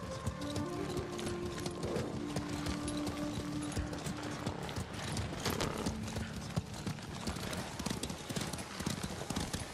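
Horse hooves clip-clop steadily in the video game Ghost of Tsushima, with a whinny and other game sounds mixed in under speech.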